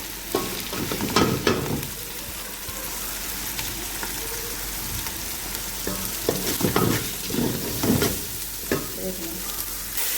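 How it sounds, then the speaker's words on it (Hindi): Steady sizzling of garlic paste and spices frying in a hot pan, with bursts of scraping and stirring scattered throughout, close and moderately loud, no voices. "मैंने लहसुन का पेस्ट डाल दिया इसमें, और ये मसाले डालने लगी हूँ साथ ही"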